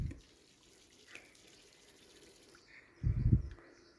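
A garden hose sprays water across an outdoor sink being washed, heard as a short splashing burst at the start and a louder, rushing spurt near the end, with quiet background in between.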